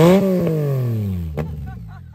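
A Ducati Panigale V2 Bayliss motorcycle engine fires up close by, a loud rumbling tone that sweeps slowly downward as the revs settle, with a sharp crack near the middle and faint chirps toward the end.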